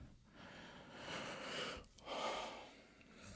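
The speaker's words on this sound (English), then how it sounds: "my breathing is just being amplified right now" Close, microphone-amplified human breathing, with a few slow, noisy inhale and exhale swells separated by brief pauses, heard alone with no talking.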